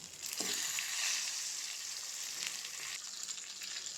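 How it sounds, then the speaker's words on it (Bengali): Fish heads seasoned with salt and turmeric fry in hot oil with a continuous bright hiss, loudest at the start, with a few small stirring clicks and crackles over its length. No talk. "দিয়ে দেব অল্প করে হলুদ গুঁড়ো, দিয়ে মাছের মাথাগুলো দিয়ে দেব"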